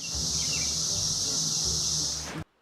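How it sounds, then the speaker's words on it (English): Cicadas in a tree buzz in a loud, steady, high-pitched drone that holds evenly for over two seconds and then cuts off abruptly. "Cicadas."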